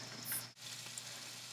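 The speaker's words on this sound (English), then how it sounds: "See that good sizzle?" Italian sausage sizzles in a hot frying pan, a steady, faint crackling hiss with one brief dip partway through, no talking over it.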